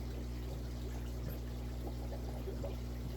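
Water pours steadily out of an RO/DI filtration system in a fish room, a continuous soft splashing stream over a low steady hum, with no talking.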